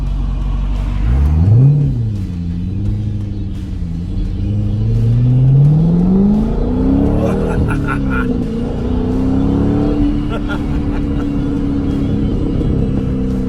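A 2008 C6 Corvette's LS3 V8 engine revving repeatedly, its deep rumble rising and falling in pitch, close and loud, with a voice briefly speaking over it.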